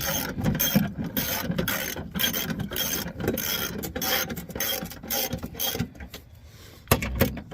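A ratchet snugs the bolts on a BMW E9X M3 exhaust X-pipe, with quick clicking and rubbing mechanical noise running in bursts throughout and no talk.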